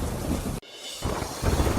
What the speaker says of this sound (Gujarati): ધોધમાર વરસાદ વરસતા રસ્તા પર પાણી વહેતા થયા.